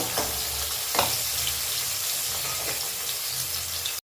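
Steady, close sizzle of potatoes frying in hot oil, with a few soft scraping knocks from stirring.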